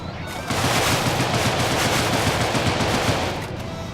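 Sustained automatic gunfire from the video game Deadbolt rattles in one loud, rapid burst lasting about three seconds, with no talk over it.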